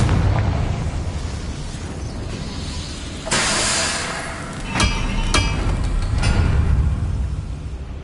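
A Confringo fire spell explodes in the game Hogwarts Legacy, a loud whooshing blast that rolls into a hissing roar, followed by several sharp bursts over steady game ambience.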